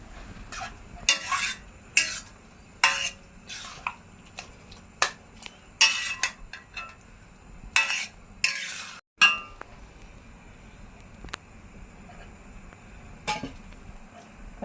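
A spoon stirs milk and grated carrots cooking down for carrot halwa in a pan on medium-high heat. It makes repeated scraping sweeps and metallic clinks in uneven bursts, close and fairly quiet, then the pan settles into a low simmer.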